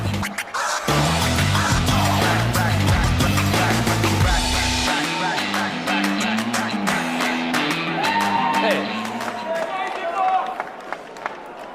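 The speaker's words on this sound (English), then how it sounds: "Man, that is a big crowd." A large crowd at the CPAC political conference cheering, whooping and clapping loudly as a host walks out, with a voice speaking over the noise as it fades slightly.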